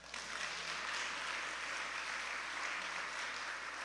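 Audience clapping steadily at an awards ceremony, a dense wash of many hands that stays even and moderately loud for several seconds, with no voices over it.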